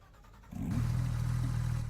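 A Porsche GT3 RS engine in a racing video game starts building up and revs to a loud, steady high drone that holds on, with a tonal whine rising then sustained.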